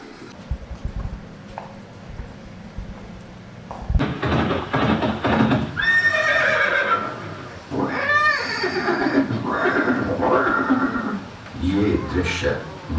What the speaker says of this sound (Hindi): ये दृश्य महाराणा प्रताप और सुविख्यात स्वामी भक्त घोड़े चेतक के अंतिम मिलन का है।